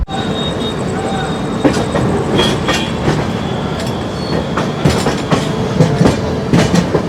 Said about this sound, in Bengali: দীনদয়াল উপাধ্যায় জংশন থেকে ট্রেন ছাড়লো